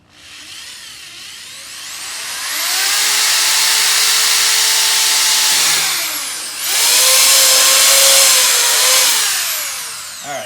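A power tool cuts a hole in an RV dump hose holder: two loud, high whining bursts that spin up, hold, and wind down, with no talking.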